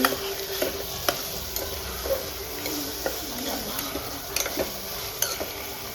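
Food with garlic chutney and a pinch of salt is stirred in a pan, with repeated sharp spoon clicks against the metal at a loose rhythm over a soft, constant sizzle; no one speaks.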